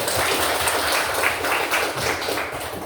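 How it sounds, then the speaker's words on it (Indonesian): A group of children in a classroom claps continuously, a dense patter of hand claps at steady volume throughout, nearby and without talk. "bagus, tepuk tangan dulu"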